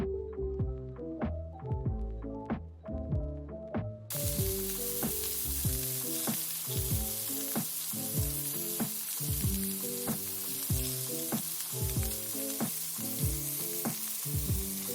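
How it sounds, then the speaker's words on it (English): A disc of Guyanese bake dough frying in hot oil, giving a steady, dense sizzle with constant crackling pops, close and loud, with no voices. "The oil will begin to bubble."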